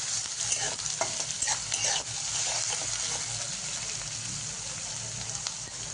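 Chivda made from leftover bhakri being mixed in a frying pan with green chilli and onion, steady sizzling and frying hiss with repeated stirring scrapes, close and continuous.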